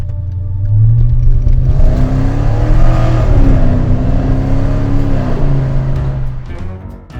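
A V8 engine in a small Audi S6 wagon accelerates hard, loud and close, its pitch sweeping up through the revs before easing off near the end.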